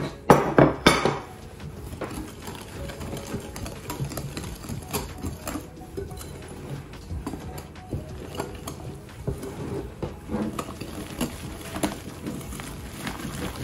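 Coconut and poppy seed cake batter is mixed in a bowl, with a few loud clanks against the bowl at the start, then steady scraping and tapping of a utensil.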